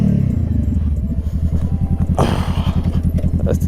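A motorcycle engine idles with a steady, close, throbbing rumble as the rider works the clutch and downshifts, with a brief rougher burst midway.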